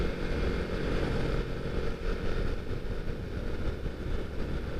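A Yamaha XSR 155 retro motorcycle engine idles steadily up close, a continuous low rumble that holds even throughout with some wind noise over it.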